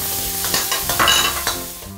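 Minced garlic, ginger and scallion go into a little hot oil in a wok, producing a close sizzle broken by several quick stirring and scraping strokes, with no voices.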